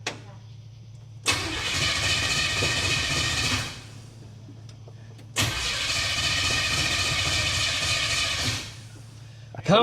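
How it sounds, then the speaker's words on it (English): A 1957 Chevy with a small block 307 V8 and open fender well headers fires up and revs loudly in two long, rowdy bursts, each dropping back to a low idle rumble between them. "this thing's a small block 307, open fender well headers, and it is the rowdiest 307 you will ever hear"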